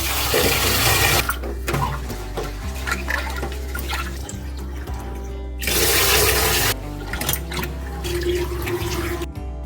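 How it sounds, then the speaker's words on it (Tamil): Water splashes and swishes in bursts as soaked white sorghum (jowar) grain is stirred and rinsed, with a louder rush of pouring water twice, no talking. "இப்போ இது தண்ணி ஊற்றி நல்லா ஒரு 4 கழுவு கழுவிக்கலாம்."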